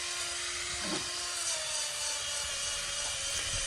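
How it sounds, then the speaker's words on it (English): A farrier's hoof buffer grinds off loose glue from a horse's hoof after a glue-on shoe is fitted, giving a steady, faint, high-pitched whirring drone with brief scuffing contacts, close and without voices. "Now I'm going to use my hoof buffer to go ahead and remove the final little bits of loose glue if there's any."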